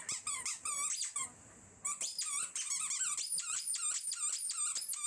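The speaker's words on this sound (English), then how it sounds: "Look at that cute little doggy playing with her toy." A small dog plays with a squeaky toy, producing rapid, loud, high-pitched squeaks in repeated bursts with a brief pause, close to the microphone and with no talking.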